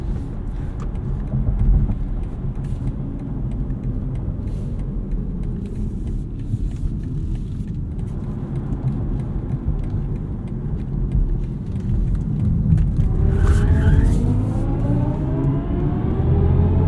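A 2023 BMW i4 eDrive40 electric car's motor hums steadily at close range, with tires scrubbing during a slide with traction control off and the motor rising toward the end.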